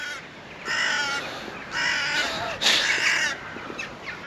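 Crows give three loud, harsh caws in sequence, each roughly a second long with short pauses between, fairly close outdoors with faint background hiss and no talk.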